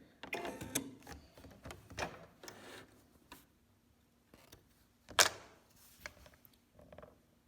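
A home sewing machine runs after its bobbin has been fixed and retensioned, giving irregular mechanical clicks and ticking in short bursts with quiet gaps, close and moderately loud, with no talk.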